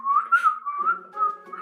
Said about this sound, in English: Tortoise whistled in tune with the birds